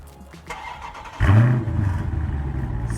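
A 2019 Dodge Challenger R/T Scat Pack Widebody fires up after a second of quiet, a loud low crank-and-catch roar that settles into a steady, rumbling idle close by.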